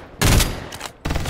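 Two bursts of rapid gunfire from the Fairlight 84 video game, a loud volley followed by a pause and then another sharp salvo, with no voices.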